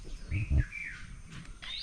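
Birds call in a garden with a small fountain, giving a few thin chirps and short whistled notes over quiet background, fairly faint and brief.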